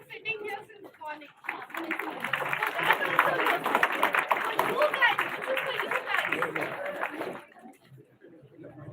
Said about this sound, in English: a big round of applause to each one of you for sitting here since morning.